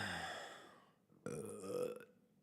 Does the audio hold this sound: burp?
yes